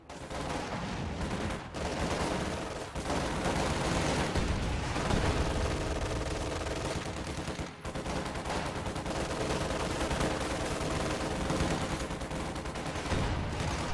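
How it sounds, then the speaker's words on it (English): Sustained gunfire in a real-time strategy video game battle as enemy forces fire on a headquarters, dense overlapping machine-gun bursts and rifle volleys with occasional heavier booms, loud and nearly continuous with brief gaps. "The enemy is firing on our HQ"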